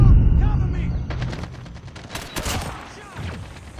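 Rapid gunfire in the mobile shooter Call of Duty Mobile, a rattling burst of close shots with a heavy low-end blast at the start, fading into scattered reports while a player talks over the action.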